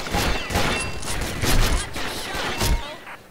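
M4 Super 90 shotgun blasts in the Combat Arms video game, a dense run of loud close booms overlapping with other gunfire across a few seconds.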